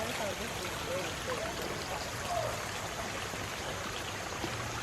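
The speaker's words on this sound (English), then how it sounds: "Look at the water coming out." Outdoors on a backyard nature trail in Georgia, water from a small stream flows with a soft, continuous trickling hiss, faint and steady throughout.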